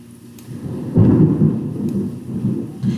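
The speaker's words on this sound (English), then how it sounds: "it is thunderstorming here, so you might hear some thunder in the video" Low rumbling thunder from an ongoing thunderstorm rolls steadily at a distance, swelling into a louder roll partway through before easing into a lingering grumble, with no voices.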